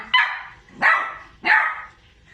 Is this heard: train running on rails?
no